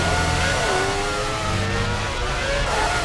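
A Formula 1 car engine in a racing video game, loud and close, revving high and climbing in pitch as it accelerates through an uphill section, with faint voice underneath.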